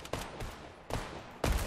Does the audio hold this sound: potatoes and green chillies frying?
no